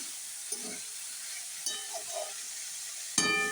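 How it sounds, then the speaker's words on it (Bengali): Chopped tomato and cabbage frying in a pan with a steady soft hiss and sizzle, broken by a few faint stirring scrapes and a sharper clatter near the end. "এবার আমি টমেটো কুচি দিয়ে দিলাম, বাঁধাকপিটাও দিয়ে দিলাম। দিয়ে এবার সব দিয়ে আবার কষাতে থাকবো।"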